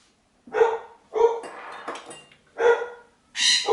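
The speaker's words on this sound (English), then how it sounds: "Please excuse my barking dog in the background" A dog barks several times in short, separate bursts, loud and close, with brief pauses between barks.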